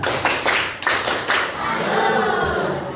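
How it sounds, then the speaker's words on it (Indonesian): Audience clapping after a group's science presentation in a Year 10 classroom at a Bogor high school, a short burst of mixed claps and voices, fairly loud and fading into steady room noise. "kita berikan tepuk salut"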